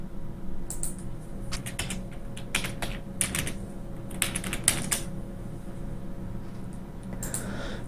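Keystrokes on a computer keyboard as a login is typed, a steady run of close, crisp clicks in irregular bursts against a low hum, with no voices.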